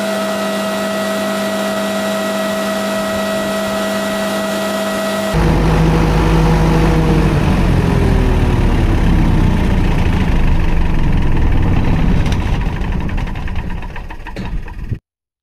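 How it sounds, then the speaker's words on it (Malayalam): A generator engine, one with a no-speed-signal starting fault, cranks and catches, then roars into a loud steady run that slowly drops in pitch before cutting off abruptly at the end, alone over a prior electrical hum. "നമുക്ക് ആദ്യം എഞ്ചിൻ ഒന്ന് സ്റ്റാർട്ട് ചെയ്ത് നോക്കാം"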